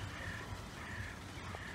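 Crows cawing in a park with trees and palms, a place where migratory birds settle; repeated harsh calls sound at a moderate distance over steady outdoor ambience.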